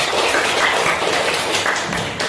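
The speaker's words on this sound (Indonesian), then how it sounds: "Terima kasih, kita kasih aplaus" Classroom applause during an Islamic religious education lesson: a dense, steady patter of many hands clapping together, fairly loud and sustained for the whole stretch before cutting off.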